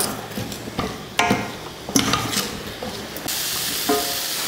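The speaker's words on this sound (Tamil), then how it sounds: "இப்போ இதை கலந்து விட்டுறலாம்." A utensil scrapes and clatters in a pan in several short, irregular strokes while stirring in spices for potato fry, with a faint sizzle underneath.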